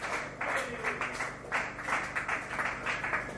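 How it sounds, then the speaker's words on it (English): Dive bar comedy club audience applauding the host, a lively burst of many hands clapping with crisp irregular peaks, fairly close and sustained, no talking over it. "Another round of applause for our main host, Mr. GT, the gangster Taco Tapalia."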